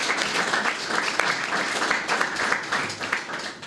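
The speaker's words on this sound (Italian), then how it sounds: "Intanto io volevo fare un applauso ad Antonio." Applause for a man named Antonio at a press conference reviewing a memorial event, a room of people clapping steadily with a few sharper individual claps standing out, continuous throughout.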